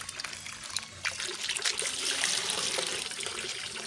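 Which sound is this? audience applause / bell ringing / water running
water running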